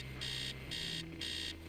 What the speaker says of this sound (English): Make it stop, make it stop, make it stop, make it stop. Stop. Alarm clock.